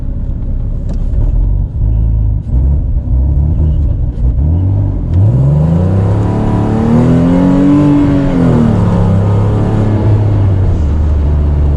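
A heavily modified Renault Clio engine heard from inside the car: low idling rumble and gear clunks, then a loud rising rev as it accelerates hard, the pitch climbing and falling through the throttle before settling into a steady drone.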